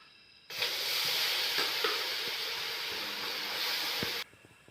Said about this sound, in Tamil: நம்ம 3 கிலோ வந்து நாட்டு சர்க்கரையை சேர்த்து விட்டுக்கலாம்